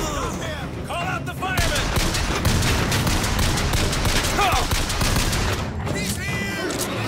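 Sustained automatic turret gunfire in Bioshock Infinite on 1999 mode, a dense, loud, continuous rattle of rapid shots with booming low end and a few sharper bursts, running steadily throughout.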